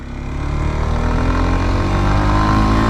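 A 2019 Kawasaki Z125 motorcycle engine at full throttle, a loud droning buzz that swells and holds steady for a few seconds while riding away from a roundabout.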